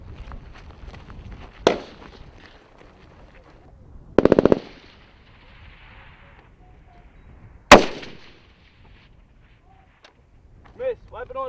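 M249 SAW machine guns fire on a Marine weapons familiarization range, three loud, widely spaced bursts of sharp reports with a short rapid volley in the middle, and a voice calls out between them.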